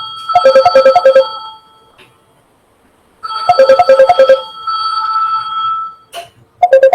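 A telephone rings with a loud, close electronic ringtone, a quick melodic trill of bright tones heard in two long bursts with a short pause between them and the start of a third.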